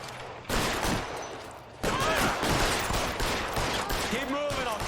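Gunfire rattles through a 1940s-style police shootout in the video game L.A. Noire, bursts of rapid shots layered over each other, loud and continuous, with game dialogue and shouting mixed in.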